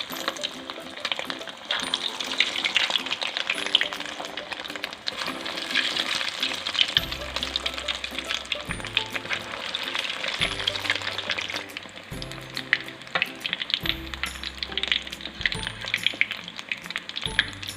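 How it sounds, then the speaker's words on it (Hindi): Rice balls (arancini) made from leftover boiled rice deep-frying in hot oil over a medium flame, with a steady loud sizzle and bubbling throughout and low rhythmic thumps underneath. "अब मैं इनको मीडियम फ्लेम पे फ्राई कर लेती हूँ"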